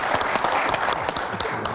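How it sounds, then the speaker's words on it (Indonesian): Studio audience applause on an Indonesian talk show, a dense, steady burst of clapping filling the whole short stretch at close range. "bisa kita kasih tepuk tangan dulu ya"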